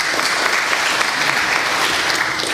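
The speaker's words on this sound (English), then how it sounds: "clapping." Conference audience at the Farkas Ferenc international scientific conference in Pécs applauding the sponsors, an even, sustained roar of many hands clapping at close range.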